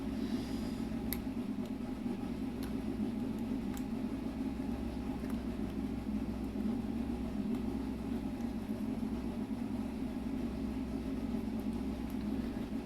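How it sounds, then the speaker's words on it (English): A loud, noisy car engine revs steadily nearby, a continuous low rumbling drone holding for the whole stretch with faint intermittent clicks above it and no talk. "Any car that's that noisy though probably needs help."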